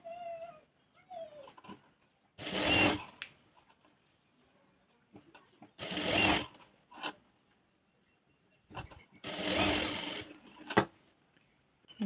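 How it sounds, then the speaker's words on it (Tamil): Domestic sewing machine stitching blouse fabric in three short bursts of rapid, whirring needle runs, close and fairly loud, separated by quiet pauses with faint handling sounds. "இந்த பீஸை வந்து இந்த மாதிரி கிராஸாக வச்சு ஒரு 1/4 இன்ச்சுக்கு வந்து இந்த மாதிரி தையல் அடிச்சிருங்க"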